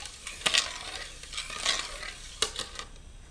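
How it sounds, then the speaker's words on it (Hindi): Sugar being stirred into maida halwa in a pan, a spoon scraping in uneven strokes with a few sharper clinks against the metal, close by and fairly quiet, with no voices. "शक्कर को अच्छी तरह से मिक्स कर दें।"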